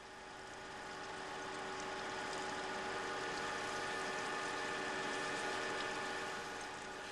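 A capstan lathe runs steadily under its geared motor, giving a continuous mechanical hum with fine tonal whine, moderately loud and unchanging, with no talk.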